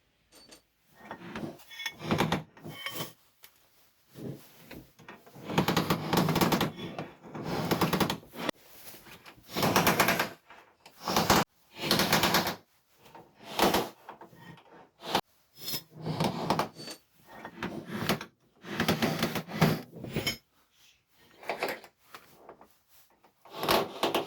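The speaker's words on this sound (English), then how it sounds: "you smack it with a hammer until the pin comes out" Sharp metallic hammer strikes on a pin punch driving out a Ford Escort Mk1 door hinge pin, irregular bursts, some in quick clusters, close by, with pauses and workshop rustling between them.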